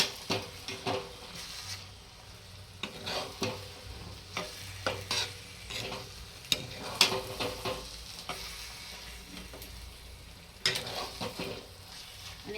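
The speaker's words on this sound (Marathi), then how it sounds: "आपण कोथिंबीर टाकून घेऊया त्याच्यामध्ये आणि एकदा चांगलं मिक्स करून घेऊया" Baingan bharta being stirred with coriander in a pan, with repeated scraping strokes and spoon knocks against the metal over a low sizzle, in an irregular rhythm close by and no one talking.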